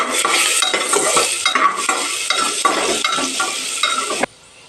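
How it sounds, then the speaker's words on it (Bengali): Ginger and garlic fry in a pan for a chicken stew, a loud close sizzle with continuous vigorous stirring and scraping, stopping suddenly near the end. "এর মধ্যে দিয়ে দিচ্ছি আদা একটু ভালো করে ভেজে নেবো আদাটা"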